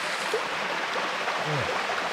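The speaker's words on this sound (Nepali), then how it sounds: "यहाँबाट बगेर आएको कल कल पानी खाइदिने हो नि" Water from a stream flows and burbles continuously near a cave, a broad steady wash with small gurgles, fairly close and loud, with no clear talking.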